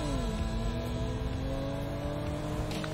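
A stolen car's engine in Grand Theft Auto story mode hums steadily as the car drives, a continuous mid-level drone with a slight pitch rise early on.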